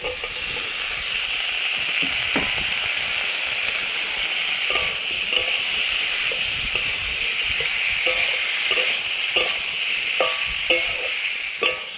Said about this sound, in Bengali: এবার এর মধ্যে ওলকপিটা দিয়ে দেবো, ওলকপি আলু দিয়ে ভালো একটু কষাই করে নেবো